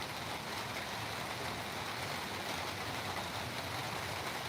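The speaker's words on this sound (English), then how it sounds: "We are out here in the rain. Proper raining." Rain pours outdoors in Las Vegas as a constant, dense wash of noise with no distinct drops or voices, holding the same level from start to end.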